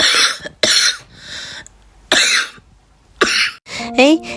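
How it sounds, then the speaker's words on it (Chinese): A person with a deep, chesty cough that keeps waking them at night and carries a wheezy, sizzling edge: several forceful coughs in separate bursts with short pauses between, close and loud, a brief voiced sound at the end. "你们听我这咳嗽声是不是不太对呀？"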